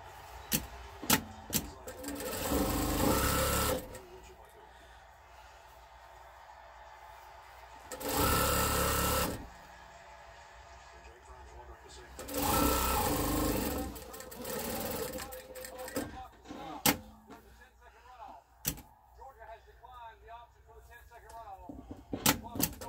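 A sewing machine stitching a quarter-inch seam around a memory pillow made from clothing, running in three loud sustained whirring bursts of a few seconds each, separated by quieter handling clicks and rustles.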